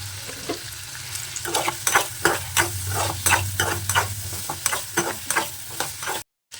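Chicken liver fries in hot oil in a pan, giving a steady close sizzle broken by repeated stirring scrapes and clatters, with no voices.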